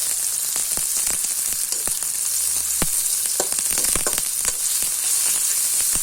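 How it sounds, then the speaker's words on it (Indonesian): Shallots and garlic sauté in hot oil for okra, a steady close sizzle with scattered crackles and pops and occasional stirring scrapes throughout. "Masukkan bawang merah, bawang putih. Ditumis hingga harum."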